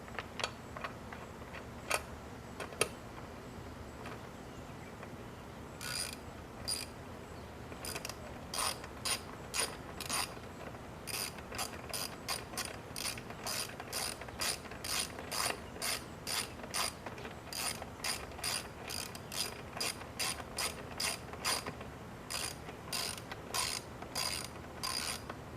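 Screws are tightened down on a Troy-Bilt safety cable mount with a ratcheting tool, giving quiet runs of rhythmic clicks that grow denser and more regular toward the end.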